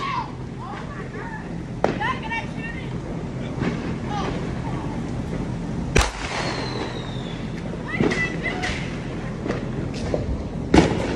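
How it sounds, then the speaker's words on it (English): Pistol shots ring out at New Year's in an outdoor setting, a few sharp cracks scattered across the clip, with one loud, near report and others fainter, over continuous voices and background commotion. "They're shooting pistols."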